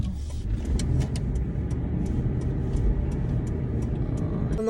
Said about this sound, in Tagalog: so ngayon andito tayo sa traffic